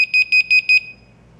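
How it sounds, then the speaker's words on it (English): A home security system's doorbell chime beeps four times in quick, even succession, loud and close, then stops, leaving a faint background hum. "That's the doorbell."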